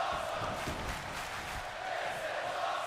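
Arena crowd noise from the WWE 2K25 wrestling video game at a show staged in Australia, a steady wash of cheering and roaring that holds at a moderate level throughout without breaks.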